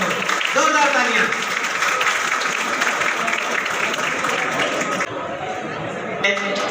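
Loud, sustained applause from an audience at a school award ceremony honouring toppers of a government Urdu school in Jaipur, dense clapping with crowd murmur and some cheering, dipping briefly before swelling again.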